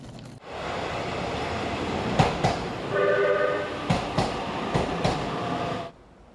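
A Keio Line commuter train rolls steadily along the tracks, with a continuous rumble from start to nearly the end, several sharp rail clacks, and a brief tonal squeal in the middle before it cuts off.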